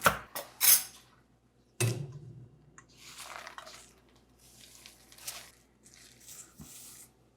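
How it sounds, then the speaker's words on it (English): A knife roughly chops pieces on a board in a home kitchen, giving a few sharp clacks and scattered softer cuts with pauses between them, close and moderately loud. "They're kind of in pieces already, so I'm just doing a rough chop."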